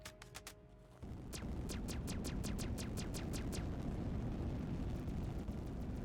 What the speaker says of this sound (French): Ils font du bruit, ils lance-flamme comme s'ils tiraient mais il n'y a pas de feu.